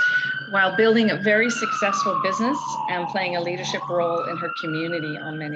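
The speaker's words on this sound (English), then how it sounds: "excuse the siren" An emergency siren wails steadily in downtown Victoria, its rising and falling tone running the whole time beneath someone speaking close up.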